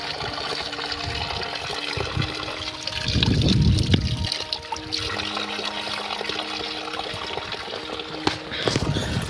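Mountain spring water trickles and splashes near a hillside spot in Nepal, a steady close flow with a louder gushing burst around the middle.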